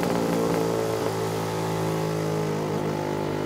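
A Lambretta scooter fitted with a SIP Nordspeed exhaust, ridden at a steady pace, gives a loud, continuous buzzing two-stroke drone with wind rush and no talking.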